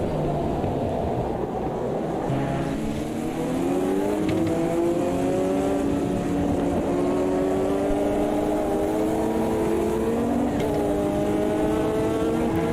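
Caterham race cars in Automobilista 2, a close engine droning and rising in pitch through upshifts, with other cars running alongside in a steady loud pack; no talking.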